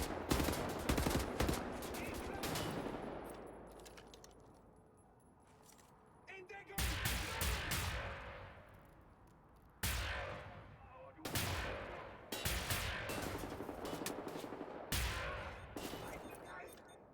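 Gunfire in the video game Wolfenstein: The New Order, repeated loud bursts of rapid automatic fire with echoing decays between volleys, over some talk.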